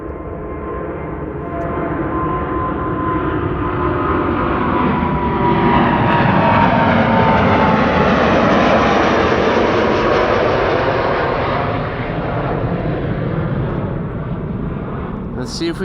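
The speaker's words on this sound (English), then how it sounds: "This is Delta Airlines flight 243, A330 Neo to Boston, Massachusetts." A Delta Airlines Airbus A330neo departs Amsterdam Schiphol Airport for Boston on a sunny winter day, its loud jet roar swelling and sweeping past before easing off.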